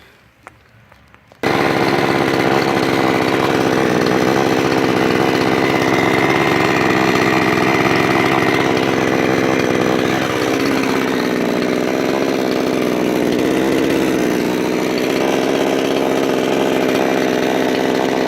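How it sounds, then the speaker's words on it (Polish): A NAC CST45 gasoline chainsaw roars loud and close, starting abruptly after a brief quiet moment and running steadily with small shifts in pitch. "Jak widzieliście, piła chodzi dosyć głośno."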